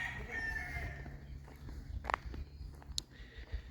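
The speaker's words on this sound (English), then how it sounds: "And lots of chickens out here." Chickens and a rooster outdoors at a hilltop lookout in Hawaii, with faint crowing and scattered clucks at moderate distance over a steady low rumble and a few sharp nearby footstep-like knocks.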